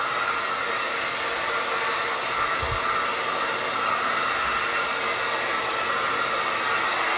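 A hair dryer blows steadily and close for the whole stretch, drying a healing arm lift incision and underarm, a constant loud whoosh with no talk.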